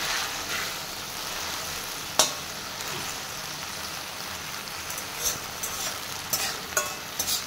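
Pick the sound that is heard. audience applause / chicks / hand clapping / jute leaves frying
jute leaves frying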